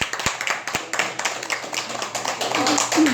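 A small class audience applauds newly joined members of a smart-work course, with a steady patter of clapping and a few sharper claps. Voices can be heard along with it.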